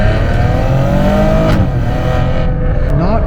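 A Maserati Ghibli's Ferrari-derived V6 revs loud and close from inside the car, its engine note climbing and dipping through short throttle bursts with no talking.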